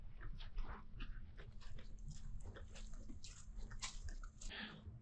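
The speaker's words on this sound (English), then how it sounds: "So you can see that I've only got my 2 dogs with me." Two dogs out on a walk on a mild winter day, one of them an old dog turning 15, make close snuffling, chewing and faint whimpering sounds over a steady low outdoor rumble.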